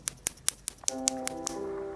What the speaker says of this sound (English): when you tap on it, it'll make a loud clicking noise